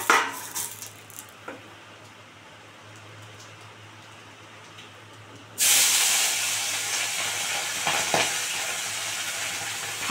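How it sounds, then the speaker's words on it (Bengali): Fish slipped into hot oil to fry crisp: quiet stirring and a faint hiss, then midway a sudden loud crackling sizzle erupts and continues strongly to the end. "এবার মাছগুলো আমি একটু ভালো করে কড়া করে ভেজে নেব।"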